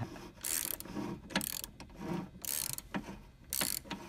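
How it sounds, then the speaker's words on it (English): A ratchet turning a bolt while a water pump is installed on a Toyota Prius Gen II hybrid, with repeated close clicking strokes in an uneven back-and-forth rhythm and short pauses between. "I can see that the bolt is turning."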